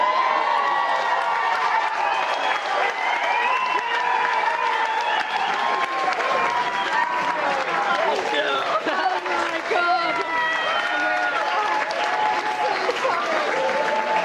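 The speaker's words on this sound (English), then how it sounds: "I hope that you will all cheer and clap" Wedding guests at a reception cheer and clap after a maid of honour's rap speech, a steady roar of applause mixed with whoops and excited voices throughout.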